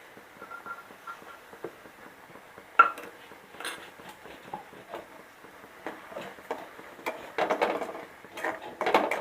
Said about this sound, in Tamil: இந்த ஸ்டேஜில் சுகரை சேர்த்து கலந்துக்கலாம்.